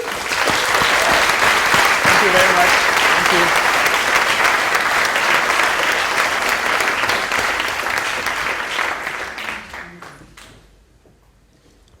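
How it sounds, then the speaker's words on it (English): Audience applause after a milk foam quality talk at the Nordic Barista Cup, a dense steady clapping crowd for about nine seconds before fading out, with a voice saying thanks near the end. "let's give them a round of applause for that"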